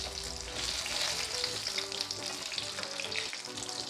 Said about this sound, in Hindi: दूसरी साइड भी इसकी फ्राई हो गई है।